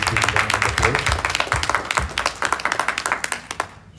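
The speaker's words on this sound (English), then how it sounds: "So please join me in giving them a big round of applause." Applause from a conference audience at a technology forum, a dense burst of many hands clapping that fades out toward the end, with some voices mixed in.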